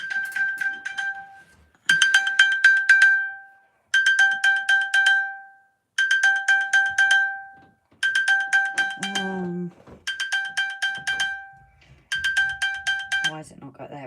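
An iPhone left on a model railway layout rings with a repeating bright chiming tone in regular bursts of about two seconds, loud and close, while someone speaks briefly over it.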